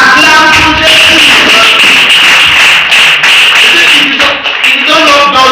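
Church congregation clapping for Jesus, dense loud rhythmic applause mixed with a sustained high tone and music, continuous throughout with a brief dip near the end.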